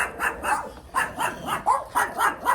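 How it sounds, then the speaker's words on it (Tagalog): A dog barks repeatedly at close range, about nine sharp yaps in a quick, uneven rhythm with no talking. "Batok na batok ang aso."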